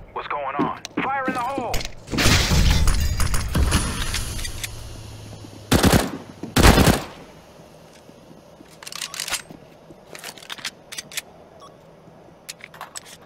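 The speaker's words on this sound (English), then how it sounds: "Throwing a flashbang." A flashbang grenade is thrown and goes off in CS:GO, with two sharp, loud bursts close together amid gunfire and game noise, while someone talks over the first part.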